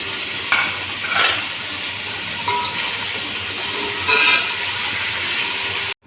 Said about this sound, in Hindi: अब ये लहसुन अदरक इसमें डाल के फ्राई करेंगे।